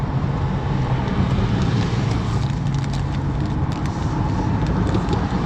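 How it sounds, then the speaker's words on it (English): Steady, dense road traffic rumbling along a Chicago street beside a train platform, loud and continuous with no gaps, drowning out anything farther away. "I can't hear anything because of the traffic on this side"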